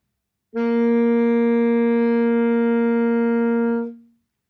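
A single sustained alto saxophone note, a G, held steadily for about three seconds, clear and full, then fading out; no voices.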